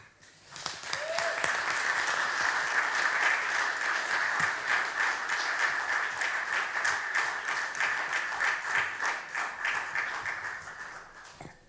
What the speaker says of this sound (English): a round of applause for the lights man